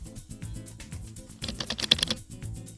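Rapid typing on a computer keyboard while entering Python code, with dense clicking keystrokes that speed up into a louder burst partway through, close and alone without talk.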